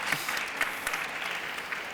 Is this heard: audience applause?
yes